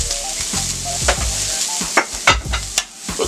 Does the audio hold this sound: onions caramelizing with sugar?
yes